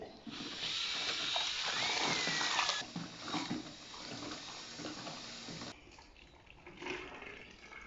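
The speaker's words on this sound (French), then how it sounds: "Donc là on y va, on va verser le piment dedans." Liquid pepper is poured onto maize seeds during seed coating, giving a soft splashing, hissing trickle that runs for a few seconds and then fades into quieter rustling and faint handling noise.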